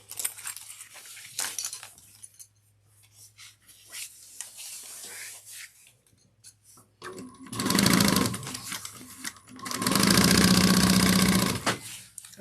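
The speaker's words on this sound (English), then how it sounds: "Make sure you don't accidentally sew over your strap connectors." Sewing machine stitching around the gusset of a fabric bag in short bursts, the loudest near the end, separated by quiet pauses and faint handling noises, with no speech.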